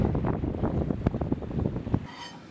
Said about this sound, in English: So it's currently blowing 30 knots